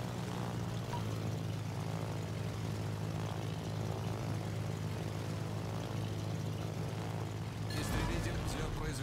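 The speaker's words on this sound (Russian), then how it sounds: "Истребитель взлет произвел." Fighter aircraft launching from a carrier in World of Warships, a steady droning propeller engine roar that holds level throughout, with a brighter burst near the end.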